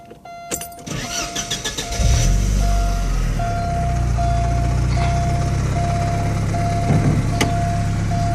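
A 1988 Porsche 944 Turbo cranks with a rapid starter whir, catches and settles into a steady, close idle rumble, with a thin electronic chime tone running through.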